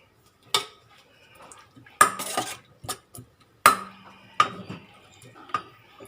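A spoon stirring shrimp paste into curry broth in a metal pot for a Thai vegetable curry with pork ribs, giving sharp, irregular clinks and scrapes against the pot, close and fairly loud, with quieter stirring between the strikes.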